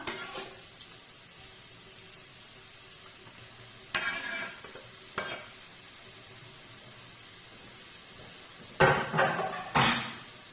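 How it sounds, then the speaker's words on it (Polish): A steady, soft sizzle of leeks frying in a pan throughout, broken by a few louder bursts of stirring and scraping. "No smaży się no, dosyć mocno, ale zbyt gorące nie jest, także wrzucam resztę pora."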